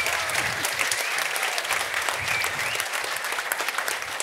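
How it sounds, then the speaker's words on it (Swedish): Warm, sustained applause from an audience at a Swedish panel debate on the energy crisis, a dense steady wash of clapping hands filling the room for several seconds with no talk over it. "bara det är värd en varm extra applåd"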